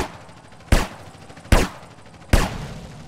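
Three separate gunshots from GTA: San Andreas, loud and sharp, spaced under a second apart, each with a short decaying tail over a steady background hum.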